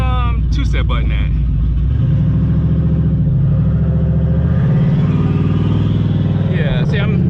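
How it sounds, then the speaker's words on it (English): SN95 Mustang fitted with 20-inch tires revs hard during a 60-foot launch test, a loud sustained engine drone rising in pitch as the tires spin, with brief voices at the start and end. "I think I'm spinning the tires"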